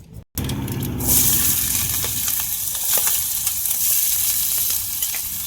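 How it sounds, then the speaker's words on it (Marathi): Cumin and mustard seeds hit hot oil in a home kitchen pan, and after a brief silence a loud, steady crackling sizzle takes over and holds for several seconds. "तेल तापलं की जिरे मोहरी टाकायचं"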